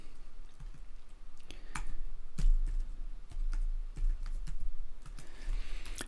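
Light typing on a computer keyboard, a steady scatter of soft key clicks with a few sharper taps, close and fairly quiet against a faint low hum, with no voices.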